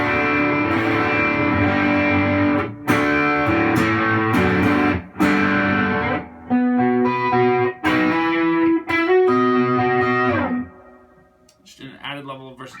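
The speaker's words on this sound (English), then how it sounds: "you can kind of roll it up and get almost like a bridge pickup type distortion" A distorted electric guitar, a Telecaster with a bridge-pickup-type distortion, plays a string of chords and notes with a gritty, overdriven tone, then stops and lets the last notes ring out.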